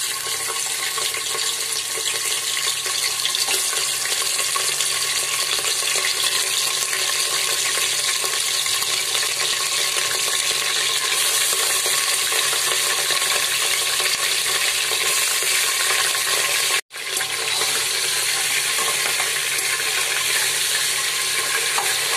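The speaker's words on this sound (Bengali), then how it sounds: "এবার একে একে মাংসগুলো ছেড়ে দেবো এর মধ্যে।" Pieces of mutton sizzle and fry steadily in a pan for a special mutton curry, a dense, even crackling hiss that runs continuously with only a brief cut near the end.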